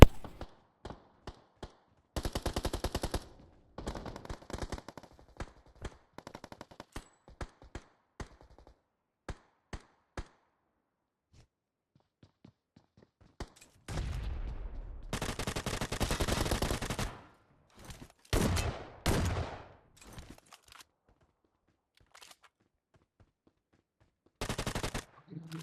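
Gunfire in the mobile shooter BGMI, with rapid automatic bursts, single shots and long sustained volleys separated by silent gaps, sharp and fairly loud, with occasional faint talk.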